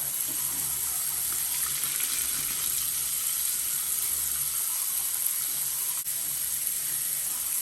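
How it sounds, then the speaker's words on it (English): Cold water runs steadily from a newly installed bathroom vanity faucet into a concrete sink, a close, even hiss and splash that stays constant throughout with no talking. "Cold water."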